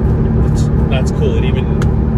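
Porsche 911 Carrera 997 engine blipping to rev-match on downshifts from fifth to third, a brief rising engine note over steady cabin road rumble, close and moderately loud.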